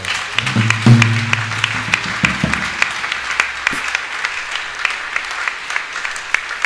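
A church congregation at a Sunday service bursts into sustained applause, many hands clapping steadily and fairly close throughout, with a few low voices or musical tones underneath early on.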